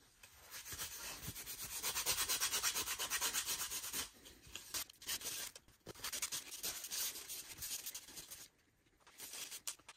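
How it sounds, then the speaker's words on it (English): Abrasive Scotch-Brite pad scrubs a part from a 1951 Vendo 39 Coke machine, a steady rough rubbing in long back-and-forth strokes, close and loud, pausing briefly before resuming. "We use a Scotch-Brite pad on it."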